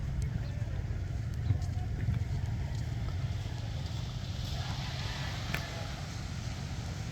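A steady low motor drone runs throughout with a constant broad rumble of water and wind, evenly loud with no pauses.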